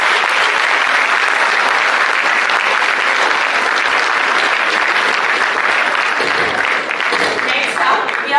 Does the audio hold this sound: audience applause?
yes